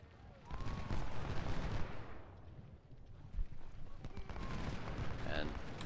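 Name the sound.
musket gunfire in Civil War strategy video game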